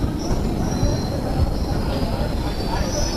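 An express train rolls into Nagaur station with a loud, steady rumble of wheels on rails and a faint high squeal running through it, no pauses or breaks.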